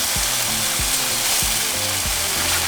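Al pastor pork meat fries in a pan, giving a loud, steady sizzle with rhythmic scraping and stirring knocks underneath, close up and with no talk.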